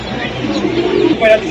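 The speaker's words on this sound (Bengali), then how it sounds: "এই যে জোড়াটা কবুতর আমি দেখাই আপনাদেরকে দর্শক বোম্বাই কবুতর এটা" Pigeons at a pigeon seller's stall, including a pair of Bombay pigeons, give soft low coos under a steady murmur of nearby voices and background chatter.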